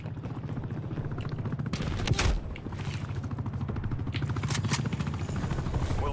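In Call of Duty Cold War an attack helicopter's steady rotor chop throbs throughout, with rapid bursts of gunfire and a sharp nearby blast over it, at a fairly low level with no talk.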